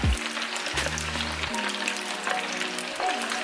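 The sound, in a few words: chicken frying in oil for Korean fried chicken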